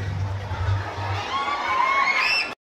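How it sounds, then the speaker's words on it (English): A school foundation-day pageant crowd cheers and shouts for the top finalists, a steady roar with high whoops rising toward the end before cutting off abruptly. "Let's give them a round of applause, everyone."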